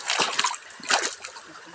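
Stream water splashes and sloshes in two close bursts, then settles into a softer trickle, with a faint voice in the background.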